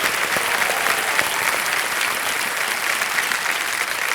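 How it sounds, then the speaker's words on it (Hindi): A studio audience at the KBC India quiz show applauds a contestant with dense, continuous clapping at a steady, fairly loud level that holds for several seconds with hardly any talk. "तालियां बज जाए इनके लिए।"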